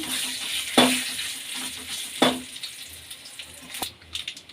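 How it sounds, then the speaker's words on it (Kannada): Mustard seeds, urad dal and chilli frying in hot oil for a tempering, a soft steady sizzle with a few sharp pops and crackles spaced across the clip, close and without talk. "ಎಣ್ಣೆ ಫ್ರೈ ಆಗಲಿ"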